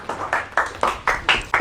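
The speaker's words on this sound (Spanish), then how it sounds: "Vamos a recibir con un fuerte aplauso a Javo Ferreira" A few people clap in a small gathering welcoming a guest speaker, with sharp, sparse claps in a loose rhythm over a couple of seconds, close and moderately loud.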